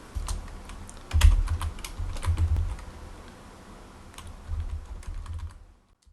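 Keys clatter on a Commodore 64 keyboard in a quick, uneven burst of clicks that pauses briefly and then resumes before stopping, close and clear with no voices.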